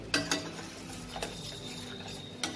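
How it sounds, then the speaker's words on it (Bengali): A spoon scraping and clinking against a pan while prawn malai curry masala is sautéed, a few sharp metallic taps spaced out over a low sizzle. "এবার এটাকে আমি খুব ভালো করে যতক্ষণ না তেলটা ছাড়ছে তত কষাবো।"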